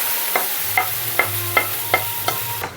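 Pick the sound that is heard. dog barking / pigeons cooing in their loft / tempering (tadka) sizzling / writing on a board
tempering (tadka) sizzling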